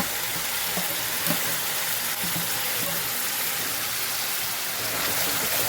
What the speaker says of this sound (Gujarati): ટમેટાને સરસ આપણે સાતળી લેવાના છે.